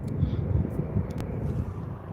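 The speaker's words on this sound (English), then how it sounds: "Does sound like that helicopter's coming back." A Norwegian Air Force helicopter flies near Oslo airport, heard as a faint, distant low rumble under wind, with a brief higher click or whoosh in the middle.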